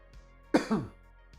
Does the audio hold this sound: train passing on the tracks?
no